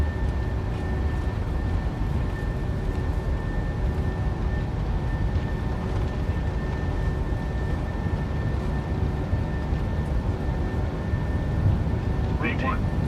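Airliner taking off in Microsoft Flight Simulator 2024, a PMDG 777, with a dense steady engine roar and rumble throughout, while cockpit callouts are spoken over it.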